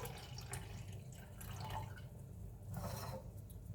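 Water from a kettle pours steadily into a pan of pasta e fagioli sauce, a continuous splashing trickle lasting a few seconds, fairly quiet and close.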